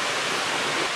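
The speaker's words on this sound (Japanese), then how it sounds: "すげえ、白滝が見える" Kurokuma waterfall, the first falls in the Shirakami mountains of Ajigasawa, Aomori, gives a steady, dense rushing roar that fills the whole second without a break, close and unbroken.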